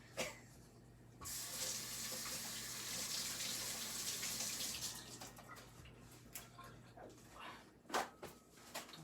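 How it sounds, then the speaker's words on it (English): Hands are washed under a running kitchen tap, with a steady gush of water for several seconds that then gives way to quieter splashes and light clatter. "so I'm going to wash my hands off"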